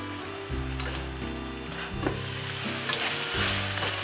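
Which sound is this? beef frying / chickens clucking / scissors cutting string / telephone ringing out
beef frying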